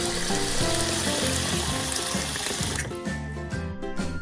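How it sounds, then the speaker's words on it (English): Water runs in a steady rushing stream for several seconds, heard alongside a bright tonal musical backing that drops away partway through. "Water the lawn."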